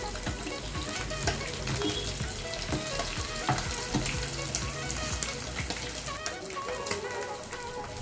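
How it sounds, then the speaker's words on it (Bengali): Amodi fish deep-frying in hot oil and being turned over, giving a steady, dense sizzle with occasional clinks and stirring noises close by, no talking. "মাছগুলোকে আমি এভাবেই উল্টে পাল্টে ভেজে নেব লাল লাল করে।"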